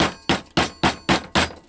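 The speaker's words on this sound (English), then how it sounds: "but I hammer the stitching down." Hammer strikes flattening the stitching on a leather knife sheath, six sharp, evenly spaced blows about a quarter second apart, close and loud with short decays and no voices.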